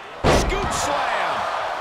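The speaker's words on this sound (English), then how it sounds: "Scoop slam." A wrestling scoop slam in WWE 2K23 lands as one loud, sharp body-on-mat impact, followed by a lingering roar of arena crowd noise.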